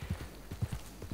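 Horse hooves clip-clopping at a steady riding gait in Red Dead Redemption 2, a quick rhythmic series of soft thuds, fairly quiet.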